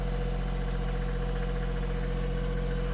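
A tractor engine idles steadily close by, a constant low throbbing hum with a mechanical vibration and no voices.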